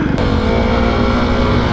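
A gutless dual sport dirt bike engine held in first gear at full throttle produces a loud, steady, close-up droning roar that holds for the whole moment.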